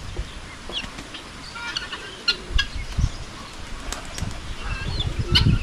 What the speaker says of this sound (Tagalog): Yan napakalakas lumipad sa ating mga kalapati.